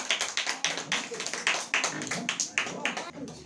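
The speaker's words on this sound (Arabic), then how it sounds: "تصفيق حال حال الطالب لينا ودان." Children in a classroom clap together in quick, uneven bursts for a fellow student, the hand claps close and lively, with voices mixed in.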